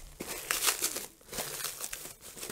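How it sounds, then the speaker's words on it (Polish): Plastic foil being torn and crumpled out of a handmade jute rope basket, crinkling bursts that rise and fall in several close rustling waves. "Najpierw rozerwiemy folię."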